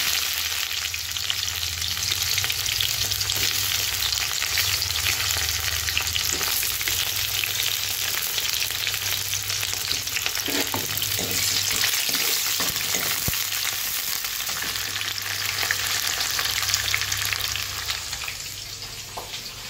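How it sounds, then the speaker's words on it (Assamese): Onions fry in mustard oil in a wok with a steady, loud hiss and crackle, punctuated by occasional spatula scrapes, fading slightly at the end. "পিঁয়াজটো ৰঙাকৈ ভাজি লৈছোঁ"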